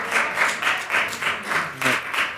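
People in the audience at a city council meeting applaud, a moderate, rhythmic surge of clapping with slightly pulsing waves, alone without talk.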